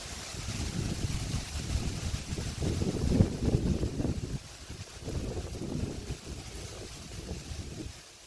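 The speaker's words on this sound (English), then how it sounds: "Pretty windy day out here today." Steady wind gusts buffet the microphone outdoors, a rough low roar that swells and eases without any voices.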